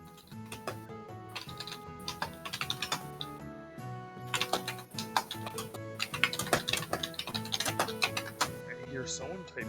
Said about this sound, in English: I hear someone typing in the background.